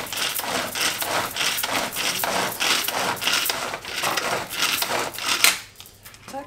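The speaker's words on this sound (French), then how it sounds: "on va hacher un petit peu les champignons noirs" Black mushrooms being chopped with a knife on a board, a fast run of close, steady tapping and scraping strokes that stops near the end.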